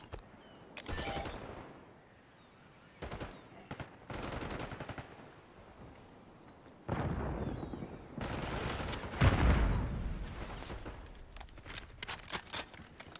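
Gunfire in a video game, bursts of rapid shots crackling at close range in several separate volleys with short pauses between them, with no talking over it.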